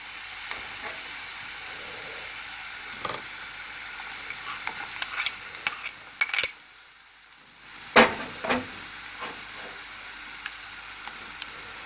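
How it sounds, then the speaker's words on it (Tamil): A steady sizzle of chopped onions sautéing in oil, with a few stirring scrapes and clinks of a utensil against the pan. "பொடியாக நறுக்கின வெங்காயத்தை போட்டு வதக்கணும்."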